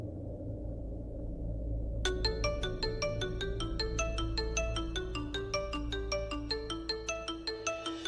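A phone rings in a Hindi TV drama scene, a repeating electronic ringtone melody that starts abruptly after a low background hum and carries on steadily, loud and close, with no talking.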